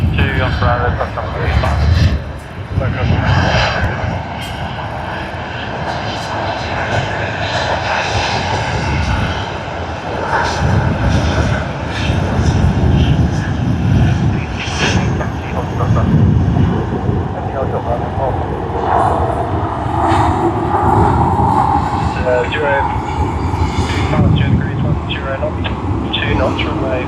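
A Virgin Australia airliner's engines roar steadily at Sydney Airport, a loud sustained rumble and whine that swells and fades over the length, with a voice talking over it at times.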